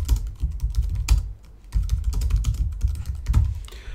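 Fingers tap out code on a computer keyboard in quick, close, uneven bursts of clicks, with one short pause partway through and no voice.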